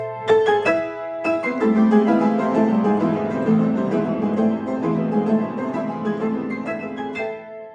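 Dense, heavy piano chords from the cadenza of Grieg's Piano Concerto struck fortissimo one after another, their sustained tones blurring together into a thick, ringing wash.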